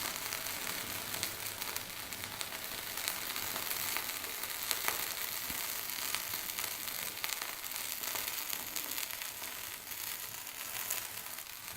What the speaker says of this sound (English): Woo! Flambe! Lovely. That will cook down.